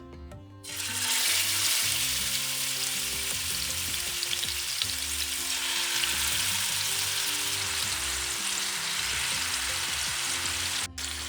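Marinated chicken shallow-fries in about a cup of coconut oil in a pan for a Kerala-style chicken roast, giving a loud, steady sizzle that runs unbroken from start to finish with no talking.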